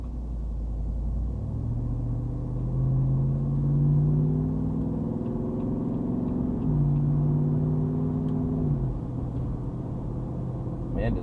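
A 2022 Jeep Wrangler Unlimited Rubicon 392 V8 drones and rumbles from inside the cabin while driving, its pitch rising through two gear pulls with a short shift between them over steady road noise.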